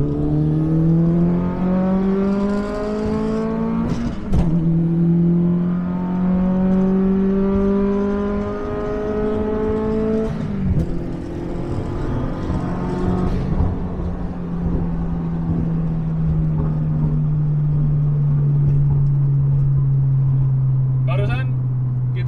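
A stage 3 Subaru WRX STI with an EJ257 engine pulls hard from 100 to 200, its loud boxer drone climbing steadily through long gears with brief dips at each upshift, filling the cabin under a talking driver.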